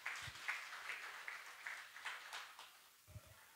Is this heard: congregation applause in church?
yes